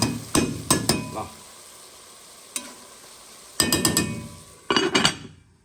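Spoon stirring tomatoes cooking in a pan, several sharp scraping clinks in quick clusters separated by short pauses, close and fairly loud over a faint sizzle.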